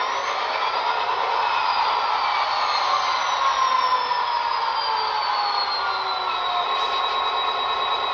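An Athearn SD40 model locomotive with Economi DCC sound starting up, a steady droning diesel engine tone with slowly shifting pitched whine, continuous and close with no talk.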